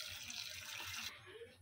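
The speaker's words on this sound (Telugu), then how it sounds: "ఇలా ఒక 2 గ్లాసెస్ వాటర్ వేసుకోండి." Water runs from a tap or is poured into a pot of cauliflower pieces on the stove, a faint steady splashing stream that thins out toward the end.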